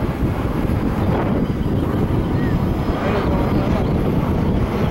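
In a flight simulator, the engine of a Sbach 342 aerobatic plane runs at full throttle on a gusty crosswind day, giving a loud, dense, unbroken drone mixed with wind-like rushing.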